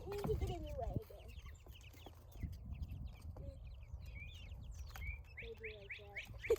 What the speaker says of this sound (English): how did that big chicken get in here?